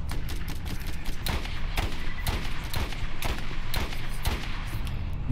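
Rapid sniper rifle fire in the video game Borderlands, sharp repeated shots cracking out at an irregular rhythm over a constant rumbling background, loud and close.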